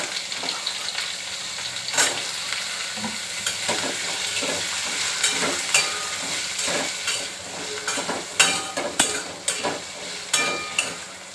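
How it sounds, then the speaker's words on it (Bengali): Oil sizzling as potatoes and tomatoes fry in a pan, with the steady hiss broken by scraping and stirring clatter from a utensil, close up with no voices. "দিয়ে একটুখানি আগে আলুগুলো ভাজা হয়ে যায়"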